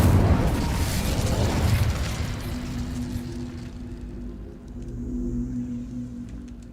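An Incendio fire spell from Hogwarts Legacy lands as a loud roaring burst that fades over a few seconds into a low steady hum and faint background tones.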